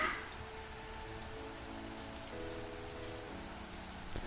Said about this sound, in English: The weather report said nothing about rain. Hopefully it's just a brief shower.